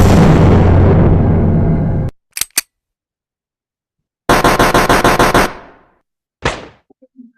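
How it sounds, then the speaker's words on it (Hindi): Gun sound effects from an online sound library play one after another: a long loud blast, two quick sharp pops, a burst of rapid rhythmic shots, then a single loud report, with silent gaps between them. "यहाँ पर भी आपको साउंड इफेक्ट्स मिल जाते हैं बहुत सारे। जैसे अब मैंने यहाँ पर गन सर्च किया था"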